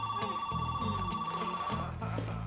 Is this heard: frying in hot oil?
no